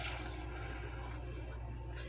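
Water and milk are poured into a pot for dinner roll dough, a steady close rushing pour lasting throughout with no talking.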